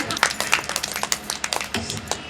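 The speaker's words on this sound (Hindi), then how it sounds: "ताली।" An audience at a devotional bhajan gathering claps in a quick, uneven burst of hand claps, with a voice heard alongside.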